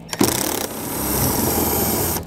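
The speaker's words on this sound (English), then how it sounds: "take a long extension with a deep well socket. We'll go ahead and get that out." A ratchet with a long extension and deep well socket loosens a 10 mm nut during a hidden hitch receiver install on a 2022 BMW X7, giving a loud, close, rapid clicking followed by a sustained grinding whir.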